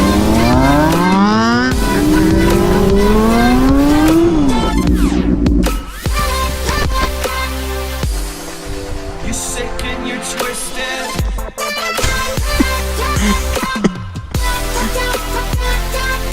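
A Honda VTEC motorcycle engine revs hard and loud up close, climbing in pitch through sweeping rises and falls, then settling into a rough, busy roar.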